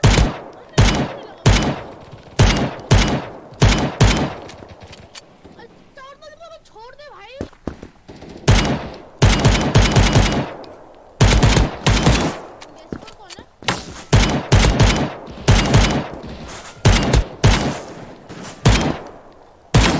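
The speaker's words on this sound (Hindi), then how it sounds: "पहला भाई मत तो सब मशीन गन मत चला" Submachine gun fire in a PUBG match comes in repeated loud bursts of rapid shots throughout, with short gaps between them and people talking during the lulls.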